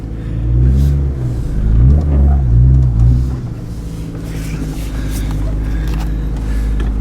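A Honda bought from a tow yard, with a stiff clutch, on its first drive: a deep, close engine rumble swells and eases through a few rev surges, then settles into a steady drone.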